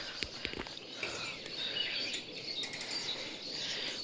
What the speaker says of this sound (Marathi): सकाळ सकाळ झाले मस्त एकदम पहाटे पाखरांचा आवाज